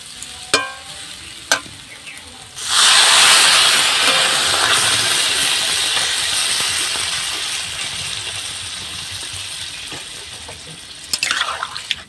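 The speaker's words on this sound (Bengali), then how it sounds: "ভালোভাবে কচুটা কষানো হয়ে গেছে এবার আমি জল দিয়ে দেবো" Water poured into a hot pan of fried taro bursts into a loud, sustained hiss and sizzle that slowly fades. Before it come a couple of sharp clinks, and a spoon clatters against the pan at the end.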